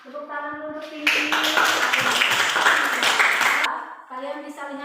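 A class of students claps hands together in a classroom lesson, a dense burst of applause lasting about three seconds between stretches of talk.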